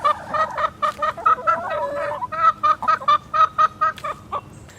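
Chickens clucking close by, a steady run of short, loud, repeated clucks and squawks from a small backyard flock.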